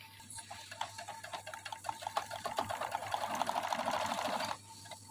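A sewing machine stitches trouser fabric for a contrast-style trouser. The needle starts with slow ticking, then speeds up into a steady, close whirring run that stops abruptly, with no talking over it.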